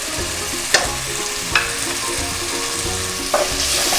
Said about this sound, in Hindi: इसको सबको सौटे करेंगे।